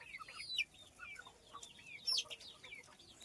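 Chickens and a rooster on a desi farm cluck in short bursts, soft and somewhat distant, with a louder squawk toward the middle and no talk.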